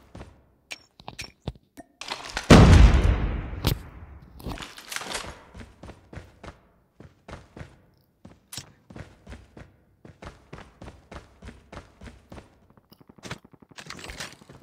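Gunfire in Call of Duty Mobile, a loud burst of shots and a heavy boom early on, followed by a long series of sharp, evenly spaced clicks and thuds, like footsteps or distant shots.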